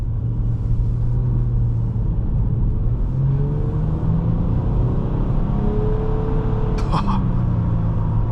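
A 2011 Nissan Maxima SV accelerates at 30% throttle, a steady engine drone rising smoothly in pitch over road rumble from inside the car, with a brief rattle near the end and no talk.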